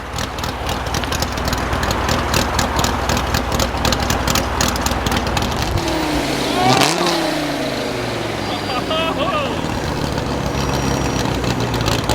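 A Dodge Viper at a Cars and Coffee show at The Point in Manhattan Beach rumbles loudly nearby, then sweeps past close with a swelling, falling engine roar, while voices murmur in the background.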